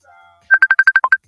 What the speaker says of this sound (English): Excuse the ringing.